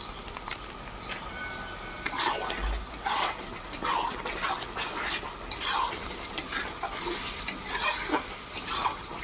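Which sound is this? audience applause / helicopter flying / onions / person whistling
onions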